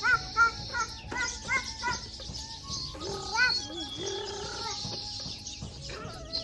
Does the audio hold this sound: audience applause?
no